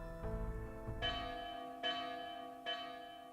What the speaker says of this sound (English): That's the alarm bell for the sentry tower.